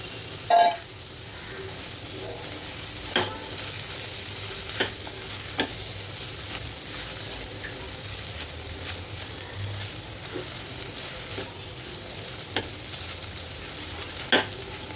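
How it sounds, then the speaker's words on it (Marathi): Roasted okra stirred and frying in a pan of masala: a low, steady sizzle with intermittent spoon scrapes and clicks against the pan, moderately quiet, no talking. "यात आता भाजलेली भेंडी टाकून घेते"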